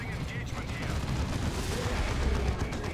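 A Baneblade tank's cannon fires in the Dawn of War 2 video game, a dense, loud blast of battle noise that stays busy for the full few seconds with a commentator's voice mixed in.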